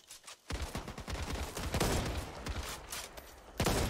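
Sustained gunfire in the zombie shooter Back 4 Blood, a loud, close barrage of overlapping shots with repeated sharp cracks across several seconds amid other gunfire.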